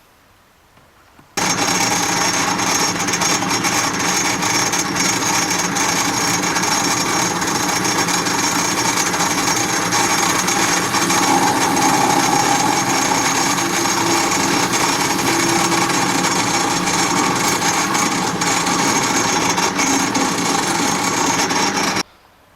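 A pillar drill runs continuously at a steady whine for about twenty seconds, loud and close, starting and stopping abruptly, drilling a 3mm starter hole in a fishing reel part.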